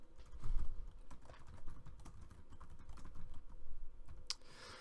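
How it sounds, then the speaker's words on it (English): Fingers type on a computer keyboard in a quick, irregular patter of soft key clicks, close and fairly quiet, with no voices. "simply just typing it in"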